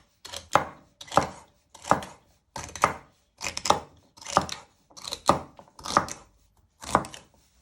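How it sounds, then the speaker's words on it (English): A knife chops vegetables for a smoked haddock chowder, trimming the ends and then slicing, in nine steady, evenly spaced cuts on a board, close and distinct with no talk. "So you first chop your ends off and then you want to finally slice it."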